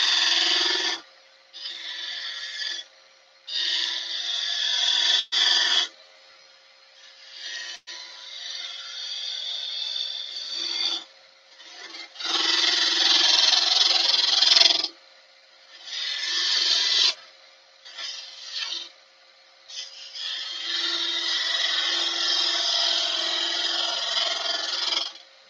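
A woodturning tool scrapes and rasps against a spinning wooden vase neck as it is thinned, in repeated bursts of harsh, gritty cutting noise separated by brief pauses, close and fairly loud with no talking.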